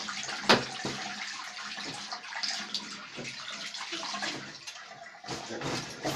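Hands being washed under a running tap during a handwashing demonstration, a steady broadband rush of water with splashing bursts and a sharp splash near the start, continuous and close throughout.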